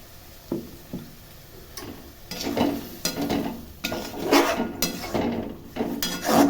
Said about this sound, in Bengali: আমি ঢেলে দিলাম সর্ষে বাটাটা।